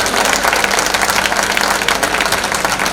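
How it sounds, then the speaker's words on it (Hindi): Audience at a Hindi hasya kavi sammelan poetry recital in Karol Bagh claps together for a poet, a dense, steady wash of applause filling the whole stretch at moderate loudness with no talk over it. "आपको पसंद आया तो एक बार उनके लिए तालियां सब लोग मिलकर बजा दीजिएगा।"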